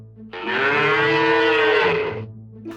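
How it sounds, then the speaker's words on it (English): A cow gives one long, loud, sustained moo that swells and then fades, heard close and clear with no talking over it. "It's a cow."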